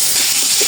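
Turmeric, chili powder, coriander powder and water sizzle in a hot pan, a steady close hiss with faint bubbling throughout.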